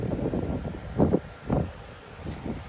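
Wind gusts across a Tesla Supercharger station at the Savannah, Georgia airport, buffeting the microphone. A low, blustery rumble swells in uneven bursts, loud and close, with no talking.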